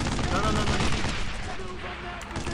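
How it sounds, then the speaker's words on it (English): Heavy artillery and gunfire rumble through a World War II battle in the Brothers in Arms video game, a dense sustained roar of blasts with brief shouts mixed in. "Some of that artillery!"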